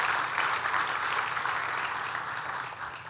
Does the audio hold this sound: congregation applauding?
yes